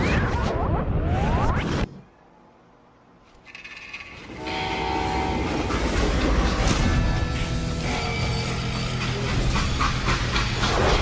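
A freight train in the Western game Call of Juarez Gunslinger rumbles and hisses loudly, with a brief drop in volume before steam, clanking and a blaring horn-like tone return at full strength.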